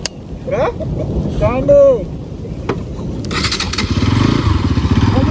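A motorcycle engine struggles to start, with loud, close mechanical rumbling and sputtering that settles into a rough engine drone partway through. Voices talk over it amid wind.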